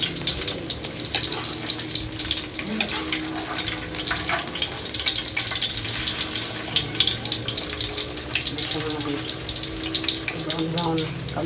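Okoy fritters frying in hot oil give a dense, steady sizzle and crackle that stays loud and close for the whole stretch, with no pauses.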